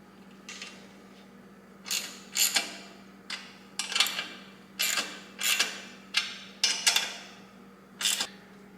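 A clamp is tightened on a two-stroke dirt bike exhaust pipe, giving about a dozen evenly spaced sharp ratcheting clicks, close and fairly quiet, over a steady low hum.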